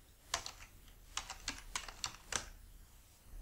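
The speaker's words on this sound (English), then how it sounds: "Let me type in the original title of the first chapter." Keystrokes on a computer keyboard while entering a chapter title in a projectional web page editor: about a dozen crisp clicks in short uneven bursts, close and fairly quiet, with no voice.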